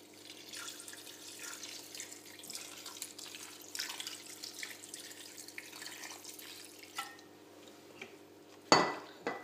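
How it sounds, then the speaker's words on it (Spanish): Water poured over cauliflower in a pan for a cauliflower-in-sauce dish, a steady close trickle and splash running for several seconds, ending in a brief louder clatter of kitchenware. "y lo cubrimos con agua."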